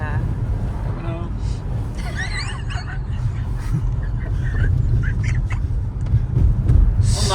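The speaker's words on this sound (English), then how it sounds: "The side wind is ridiculous. But it is nice and free-ash. Claims it's 40 miles an hour. I'd say 55, 60. Yeah, it is pretty fierce. I mean, hear that." A strong side wind buffets an MG HS 2025 driving on a road in gusts around 55 to 60 miles per hour. The rumble is loud and steady with rising gusts, and a person talks over it.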